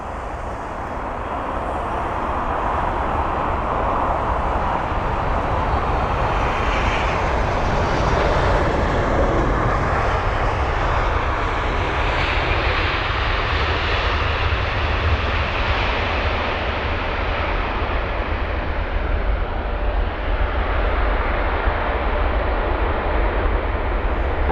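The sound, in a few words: Air China Boeing 777-300ER landing at Heathrow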